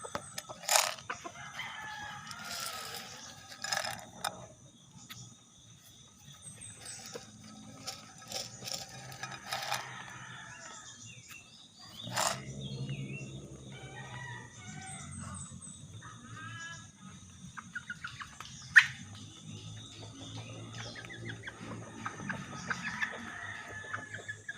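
Bantam chickens, a rooster and two hens, cluck and call in scattered bursts with a crow among them, close by and moderately loud over a quiet rural background.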